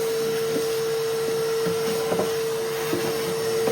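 Vacuum cleaner sucking up dust around a basement foundation, a steady loud whine drone with occasional clatters of debris being pulled in, continuous and close.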